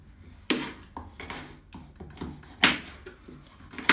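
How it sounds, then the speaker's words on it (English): Knife chopping red capsicum into small pieces on a board, a series of sharp, irregular close taps and thuds, moderately loud and alone. "Cut your capsicum into small pieces."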